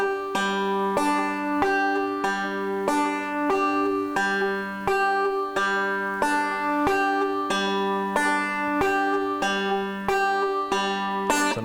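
Bright plucked banjo notes ring out in a steady, even rolling pattern, each note evenly spaced and similar in loudness, played solo.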